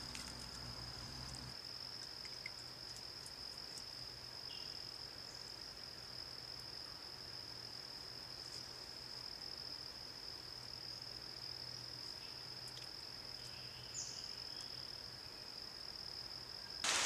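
Crickets chirp in a steady, continuous high drone across an outdoor scene, with a faint low hum underneath and no talking.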